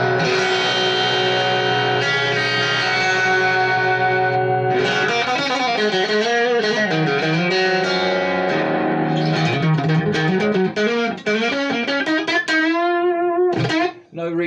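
An electric guitar through an amp with Tube Screamer-style crunchy overdrive, no reverb, on the bridge-and-middle pickup position, rings out in sustained chords and bent notes, with a brief gap before more phrases and a final scrape.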